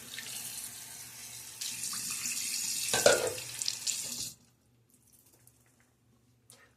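Tap water runs steadily into a sink to rinse a shaving brush, a loud continuous splash that swells briefly when the brush goes under, then cuts off abruptly, leaving near silence.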